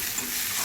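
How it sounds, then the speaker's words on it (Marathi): Chopped onion frying in a kadhai gives off a steady, soft sizzle with faint stirring and scraping. The sizzle is close and even, with no voices. "जो आपण कांदा कापून घेतलेला ना तो आता कढईमध्ये मस्त की ना जरा फ्राय करायला ठेवला आहे"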